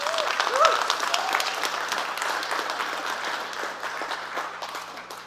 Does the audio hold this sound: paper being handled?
no